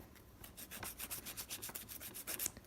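Coarse file rubbed back and forth across acrylic nails in quick, even strokes, a soft close-up rasping rhythm of roughly a dozen passes with nothing else heard.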